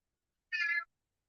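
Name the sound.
cat meowing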